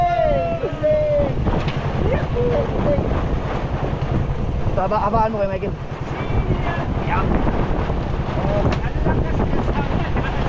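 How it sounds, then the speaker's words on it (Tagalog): Strong wind buffets the microphone in a constant low roar, with people talking over it throughout. "Ang lakas ng hangin."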